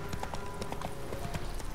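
Horse hooves clip-clopping in the video game The Witcher 3: Wild Hunt, a quick, steady run of loud close hoofbeats over a dense backdrop of game ambience.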